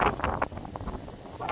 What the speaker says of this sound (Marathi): वारा जाम सुटला आज